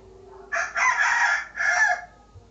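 A rooster crows once, loud and close, in a two-part call that lasts about a second and a half against a quiet background.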